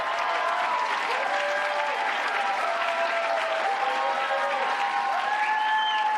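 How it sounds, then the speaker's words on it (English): A large crowd giving Hillary Clinton a standing ovation, a thick, sustained roar of clapping and cheering that stays loud and even throughout, with faint tonal whistles rising above it. "A lengthy standing ovation for Hillary Clinton."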